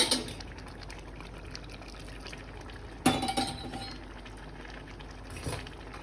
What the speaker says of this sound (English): So the rice and dal, they are actually cooked properly, and now I'm adding more water.